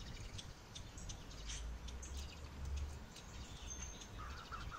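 Small birds chirp and twitter around an apartment in the morning, brief high calls scattered over steady low background noise.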